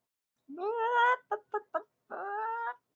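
A chicken or turkey calls close by: a drawn-out squawk, three quick clucks, then another long squawk, loud and alone with no talking.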